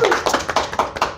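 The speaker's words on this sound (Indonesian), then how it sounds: "Tepuk tangan dulu dong." A few people clap briefly in a studio before reading viewers' questions, with about half a dozen close, distinct handclaps in a loose rhythm.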